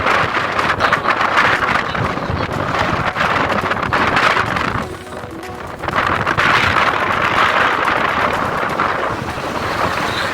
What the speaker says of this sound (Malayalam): നല്ല കാറ്റുണ്ട്, നല്ല ശക്തമായ കാറ്റുണ്ട്.